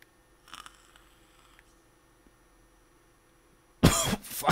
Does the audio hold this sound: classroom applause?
no